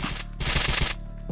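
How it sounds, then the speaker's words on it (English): Gunfire in the Roblox game Island Royale: a short, loud burst of rapid automatic shots, a brief pause, then another dense volley, close and crisp with no talking. "Where are you shooting at? I'm just shooting"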